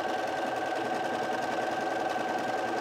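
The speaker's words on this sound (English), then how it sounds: "Okay, keyhole buttonhole coming up." A Bernina 350 sewing machine stitching a keyhole buttonhole runs with a steady, fast mechanical whir and even rhythmic needle clatter, close and continuous without pause.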